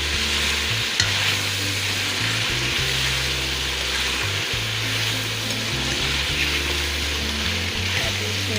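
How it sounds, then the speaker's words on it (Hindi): Chicken for aloo chicken fry sizzles steadily in a hot pan with a constant crackling hiss, and a utensil occasionally stirs and scrapes underneath. "मेरे ये चिकन की भुनाई होगी अच्छी तरह"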